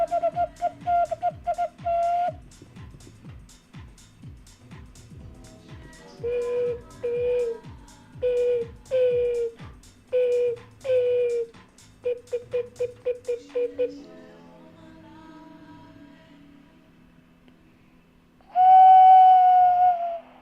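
Gen 5 water whistles are blown close and loud in repeated bursts: trains of rapid warbling chirps, some sustained pure tones that bend in pitch, and a final long steady whistle, with short pauses between.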